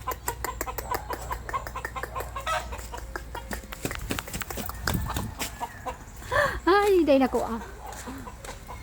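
A chicken clucks and squawks in short rhythmic bursts nearby, with a louder drawn-out cackle near the end, while a person talks over it.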